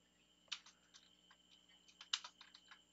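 Quiet, irregular clicks of typing on a computer keyboard while writing web page code, with two louder key strikes among soft taps and no talking.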